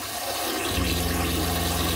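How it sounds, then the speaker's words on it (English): Water runs from an open faucet inside a Lance 2375 camper with the water pump switched on, a loud, steady rushing gush that strengthens after a moment with a low pump hum beneath it. "and open up our faucet,"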